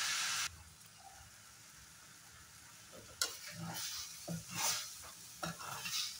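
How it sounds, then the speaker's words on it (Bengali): Potatoes and leaves stirred in a frying pan for an Assamese fish curry: a soft sizzle with scattered scraping clicks of the spatula, quieter after a louder opening burst, no talking. "এক 2 মিনিট নাড়াচাড়া করে নেব।"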